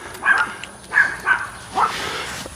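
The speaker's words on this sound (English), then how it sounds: "Are you coming to go bark at the dog?" A dog barks about four times in short yips spaced unevenly, coming from a moderate distance over a quiet background.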